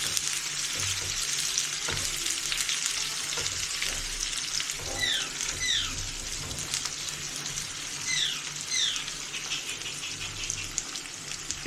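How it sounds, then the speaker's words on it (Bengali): Onions fry in a pan with cinnamon and cardamom as the base for an achari chicken curry. A continuous close sizzle runs throughout, broken by occasional stirring clicks, and no one talks. "পেঁয়াজটা আগে ভেজে নিচ্ছি ভালো করে।"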